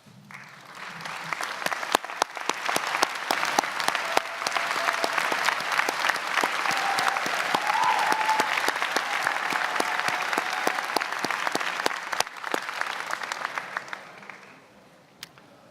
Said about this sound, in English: would you please rise and honor them with a round of applause